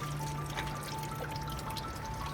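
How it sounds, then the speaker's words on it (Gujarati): Water trickles out of the mountainside, a faint, steady splashing flow that runs on alone without pause. "અહીંયા આ જે પહાડો છે એમાંથી પાણી નીકળે ને આ જે પાણી નીકળે"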